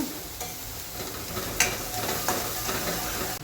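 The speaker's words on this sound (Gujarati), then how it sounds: "અને અંદર ઝીણી સમારેલી 2 ડુંગળી. ડુંગળીનો થોડીક ચડવા દઈશું." Finely chopped onions frying in a pan with cumin and asafoetida, a dense continuous close sizzle with a couple of sharper scraping strokes of a stirring utensil partway through.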